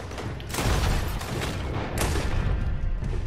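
Gunfire in Red Dead Redemption 2, several loud sharp shots with booming tails spaced about a second apart amid constant background action noise.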